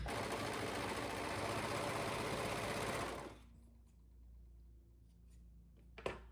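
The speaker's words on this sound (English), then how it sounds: "I'm gonna overlock this waistband, and an overlock machine trims off a little bit of the edge and it does an overlock stitch." An overlock machine trims and stitches the edge of a shorts waistband, running loud and steady for about three seconds before stopping, then a quiet pause ending in a brief clunk.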